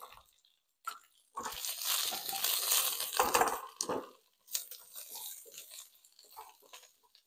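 Garlic dropped into a hot pan with cauliflower, giving bursts of crackling sizzle that swell and fade between short quiet gaps, close and fairly loud.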